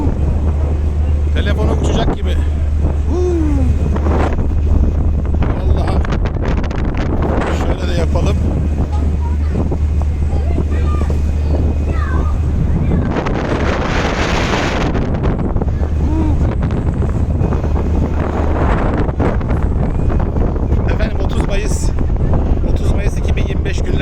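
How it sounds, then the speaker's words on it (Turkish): Strong wind buffets the microphone aboard a Kadıköy–Eminönü–Karaköy ferry crossing the Bosphorus in Istanbul, a constant roaring gust with water and engine rumble underneath and occasional voices. "İstanbul e, Kadıköy'den Eminönü Karaköy seferini yapan vapurdayım."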